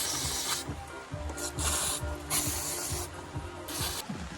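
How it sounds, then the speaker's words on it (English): Brake cleaner sprayed from an aerosol can onto the rear brake disc of a Vauxhall Combo 1.3 van, a steady hissing spray in several pulses over a background rumble, no talking. "It's quite a brake cleaner, but it doesn't really do a lot."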